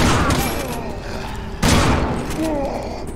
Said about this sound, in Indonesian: Kita pakai shotgun.